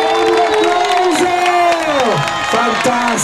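A loud concert crowd cheering and whooping for a singer, shouted voices over a steady roar, with some clapping mixed in.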